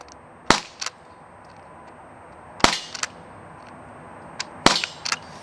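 Three sharp shots from an Umarex Canex CO2 air rifle firing at clay targets outdoors, each a loud crack with a short smack or echo after, spaced about two seconds apart, with no talking.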